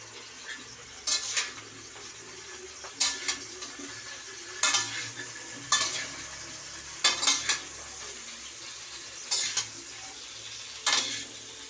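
Cauliflower fries with salt in a pan under a soft background sizzle, broken by about eight sharp spatula scrapes and clinks against the pan at irregular intervals. Nobody speaks.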